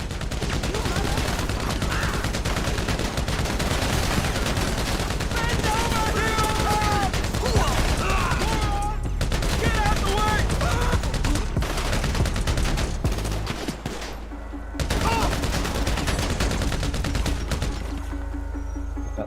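Gunfire in the video game GTA V Online: dense, sustained bursts of shots under a busy game mix, continuous and loud for most of the stretch, thinning briefly near the end.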